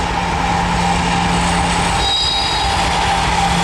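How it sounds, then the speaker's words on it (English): A CSX Evolution series locomotive hauling an ethanol train rolls past close by, giving a loud, continuous rumble and roar of rail cars with steady wheel noise and a brief metallic squeal. "This is an Evolution series, and that might be one of the more popular locomotives"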